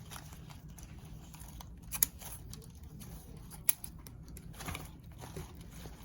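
Scissors trim the ribbon tails of a big bow on a leopard-print pumpkin fall grapevine wreath, giving two crisp, isolated snips against quiet room noise.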